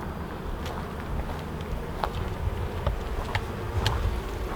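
Honey bees buzz densely around a full, packed hive during a feeder change, a steady close swarm drone with individual bees zipping past the microphone.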